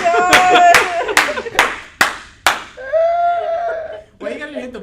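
Several sharp hand claps or slaps land in a quick uneven burst among laughing, chattering voices in a rowdy podcast studio, close and loud, with talk continuing after the smacks.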